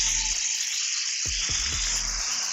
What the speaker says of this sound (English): Okay, so as that oil heats up, I'm just gonna start cooking the steaks. So I'm just gonna lay them in.